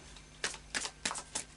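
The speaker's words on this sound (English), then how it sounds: "a final shuffle then of the Faery Oracle" A Faery Oracle card deck shuffled in four quiet, separate bursts of soft card riffling, evenly spaced over a second and a half against low room hiss.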